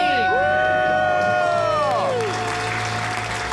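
Callers let out a loud debt-free scream as a group, with high voices shouting together, then cheering and applause continuing underneath.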